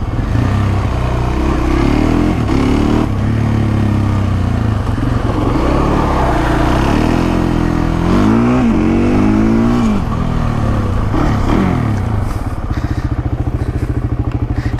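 A quad bike engine revving loudly and close during slow wheelies, pitch rising and falling in repeated surges with constant throttle changes.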